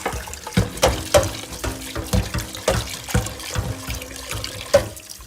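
Cold water pours from a tap into a pot in a home kitchen where ackee and saltfish is being cooked, a steady splashing stream with clinks and knocks of the pot scattered throughout.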